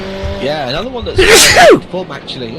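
A single loud sneeze bursts out over a live microphone during a sim-racing broadcast of Ferrari cars at Sonoma Raceway, sharp and close, with talk before and after it.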